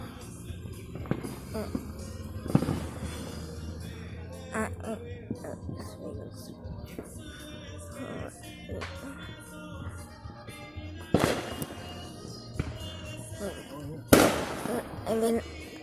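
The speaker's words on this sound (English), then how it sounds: "it's fireworks." Fireworks and firecrackers go off outdoors, scattered pops and a few loud sharp bangs spread across the stretch, some distant and some close, with people talking quietly in between.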